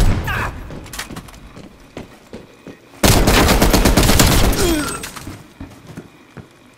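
A hand cannon fires in Call of Duty Black Ops Cold War, with sharp scattered shots followed by a sudden heavy, sustained barrage of rapid booming gunfire that tapers off into a few last thuds.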